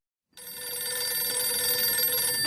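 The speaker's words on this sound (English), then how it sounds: "What am I supposed to do with a ringing phone?" A telephone bell starts abruptly after a moment of silence and rings continuously, a bright, steady metallic trill that stays loud and close without a break, with no voices over it.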